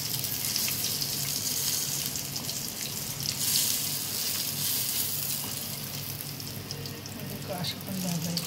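Semolina-coated fish sizzling in oil on a flat tawa griddle, a steady close crackling fry with occasional louder spits and bursts.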